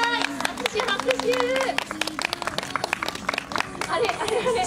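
An audience claps at a Kumamon stage show, a rapid patter of many hands with crowd chatter and a voice talking over it, lively and fairly close.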